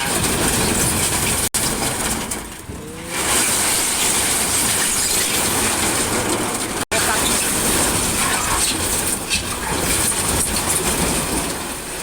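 A Komatsu PC200 excavator scooping rocks: a steady, loud, rumbling hiss of heavy machinery that carries through the whole stretch with only brief dips, and people talk over it.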